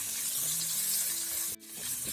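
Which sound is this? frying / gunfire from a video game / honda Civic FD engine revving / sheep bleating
frying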